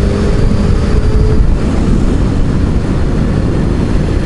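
A motorcycle engine while riding: a loud, steady low roar mixed with rushing wind, close and continuous, with no talk over it.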